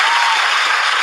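Studio audience bursting into dense applause and cheering, a loud, steady wash of clapping lasting about a second.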